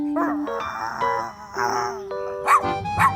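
A dog barks and yips a few times close by, with music playing underneath.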